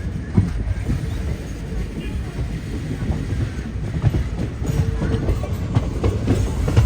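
A train rolls into Tenkasi Junction railway station, a steady low rumble with rhythmic wheel clatter that stays loud and close throughout, with faint voices mixed in.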